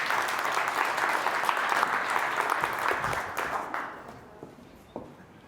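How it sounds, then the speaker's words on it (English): Audience applause for panelists at the end of a cross-sector tech for good panel session, a dense sustained clapping that tapers off toward the end, leaving a few scattered claps. "give them a massive round of applause"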